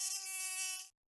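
A single close mosquito buzz, a thin high-pitched whine with many harmonics lasting just under a second before cutting off abruptly to silence.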